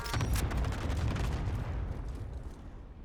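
Precision airstrike explosions rumble through a Call of Duty Warzone battle, a dense, continuous barrage of booms and crackling blasts that stays loud across the whole stretch before easing slightly, with no talk over it.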